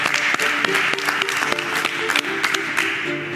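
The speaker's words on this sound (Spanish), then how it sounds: "Y desde ya les pido un aplauso" An audience on the set of the cooking competition show Top Chef VIP Chile 2024 claps steadily and loudly, a dense continuous round of applause with faint cheering mixed in throughout.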